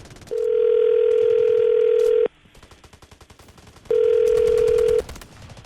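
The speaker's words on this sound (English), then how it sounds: "I'm going to dial the phone number right now" A telephone dial tone sounds twice as a steady, loud hum, with a soft stretch of rapid ticking pulses between the two tones while a number is dialed for a radio call.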